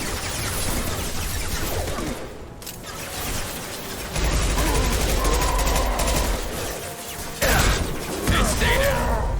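Sci-fi gunfire in Mass Effect 2, mechanical clattering weapon bursts and impacts that come in waves and pauses, with a voice speaking over the combat at times.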